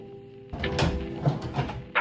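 A wooden storage drawer under a twin XL dorm bed slides open with a rumbling scrape and a few bumps, close and moderately loud, following a faint low hum.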